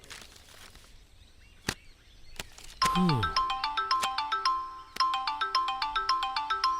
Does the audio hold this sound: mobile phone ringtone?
yes